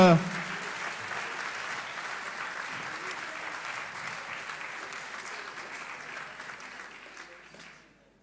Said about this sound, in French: On applaudit les poètes.